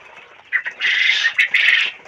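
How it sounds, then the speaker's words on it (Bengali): Hungry farm-raised quail call in short, shrill bursts that run together into a dense, noisy chatter, fairly close and loud, with brief pauses between flurries. "আমার পাখিগুলো খিদে লেগে গেছে দেখতে পাচ্ছেন"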